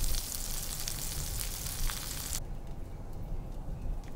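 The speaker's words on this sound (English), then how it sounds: "I have sliced some onions, which I'm going to saute in a couple of tablespoons of butter" Sliced onions sauté in a couple of tablespoons of butter, giving a continuous close hiss and crackle that drops suddenly to a softer, gentler sizzle partway through.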